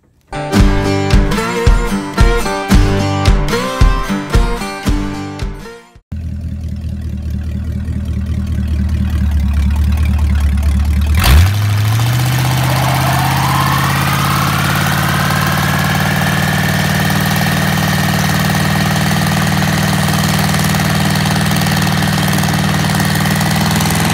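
A Z20 car engine turns over and settles into a steady, loud idle with a constant droning hum, after several seconds of music at the start.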